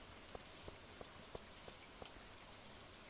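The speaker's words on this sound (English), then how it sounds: "you have to stay inside, though, because it's raining" Soft, steady rain ambience from the video game Stardew Valley, a faint continuous patter with a few light drop-like ticks spaced through it, heard alone with no talking.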